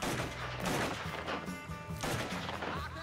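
An enemy fires a gun at the player in Mafia III, and loud, dense bursts of rapid shots crack close together over a few seconds with no talking.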